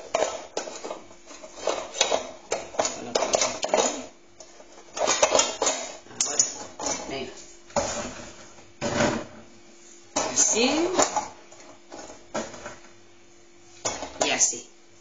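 Padrón peppers tumble in a Cecofry fryer as its paddle turns them, giving irregular clattering and clinking knocks in short bursts close by. A person talks between the bursts.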